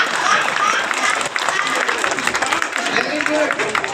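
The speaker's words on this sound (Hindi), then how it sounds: "अब इतने श्रोता ताली बजा रहे हैं" An audience applauding at a poetry recital, with dense, continuous clapping from many people, loud and close throughout, and voices mixed in.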